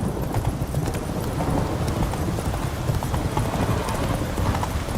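Roach the horse gallops in The Witcher 3, a steady, loud, close clip-clop of hooves drumming continuously with no pauses, against a broad rumble of movement and ambient game noise.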